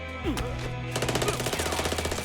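Rapid automatic gunfire in a crime film, a dense burst of shots rattling continuously over a loud, layered soundtrack.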